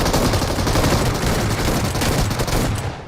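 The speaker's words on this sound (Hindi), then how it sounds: "प्री फायर दे दिया शॉर्ट गन का" An S12 shotgun fires in the battle-royale video game BGMI amid a firefight, a loud, dense wash of rapid shots and gunfire that runs without pause and fades at the end.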